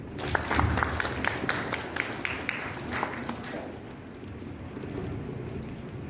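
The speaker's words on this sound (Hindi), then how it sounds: "ताली बजा देंगे।" Clapping from a church congregation for the first few seconds, a scattered burst of applause that thins out into room noise.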